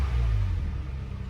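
A Toyota FJ Cruiser running after diesel got into its gas tank, its engine giving a close, low, steady rumble that eases slightly toward the end, with no voices.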